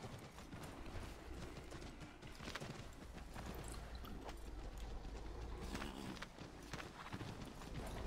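Horse hooves clatter in a rapid, steady galloping rhythm in the video game Assassin's Creed III, faint and continuous under a wash of background noise.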